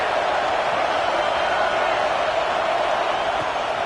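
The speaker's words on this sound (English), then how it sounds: "This crowd trying to make life miserable for this offense." Dense, steady stadium crowd roar from the video game College Football 25, a loud continuous wash of many voices with no breaks.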